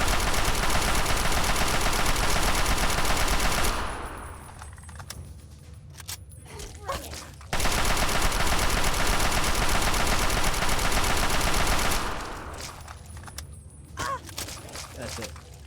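Heavy gunfire in Fallout 3's Point Lookout, two long sustained bursts of automatic fire, each roughly four seconds, followed by quieter metallic clinks and scattered single shots, loud and close.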